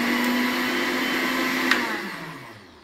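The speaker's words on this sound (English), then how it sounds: "Put it on the machine and run." A BioSpec bead beater runs with a loud, steady motorized whine and roar, holding constant before spinning down and fading toward the end.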